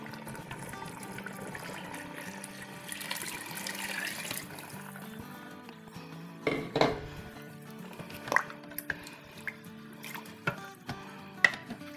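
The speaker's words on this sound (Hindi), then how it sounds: "और अब इसमें हम डालेंगे पानी जो कि है 6 कप" Water is poured into a pot of lentils for haleem in a kitchen, a steady splashing stream followed by clinks of a cup against the pot, moderately close, with no talk.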